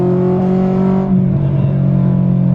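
A 2000 Honda Civic Si engine revs hard into VTEC, a loud, close, rising mechanical tone that climbs and then eases off within a couple of seconds.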